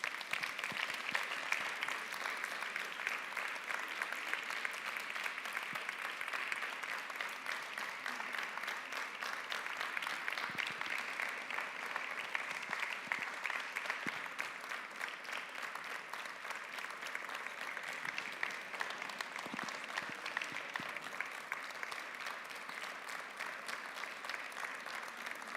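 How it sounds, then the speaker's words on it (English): Sustained applause from a conference audience as honourees walk up to the stage, a dense, even wash of many hands clapping that holds steady, moderately distant, for the whole stretch. "Please join me in giving them a big round of applause while they are coming up here."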